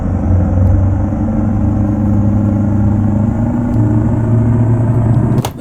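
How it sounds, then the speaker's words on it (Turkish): A heavy truck engine in the driving game Euro Truck Simulator 2 drones loudly and steadily, a deep, close rumble with a low rhythmic chug that holds throughout before a brief clunk at the end, and no talk. "Bu videoda kamyonun sesini birazcık duyun arkadaşlar."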